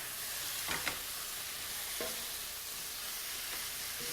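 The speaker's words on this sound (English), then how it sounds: "This gets sauteed this way for a few seconds more" Food sautéing with paprika and spices in a pan gives a continuous hiss and sizzle, with a few soft scrapes and clicks of stirring, close and fairly quiet, no talking.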